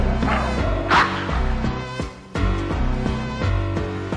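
A dog barks 'bow-wow' repeatedly within a retro party song, the yips and woofs riding over a bouncy musical backing.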